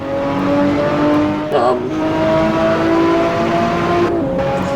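A Formula One car's engine drones at a steady pitch in Assetto Corsa at the Nürburgring, with a short shift-like break mid-run and a second dip near the end, loud and continuous throughout.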